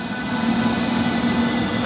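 Class 101 locomotive hauling an Intercity train departs a station, a steady close rumble with a faint tonal whine holding evenly throughout.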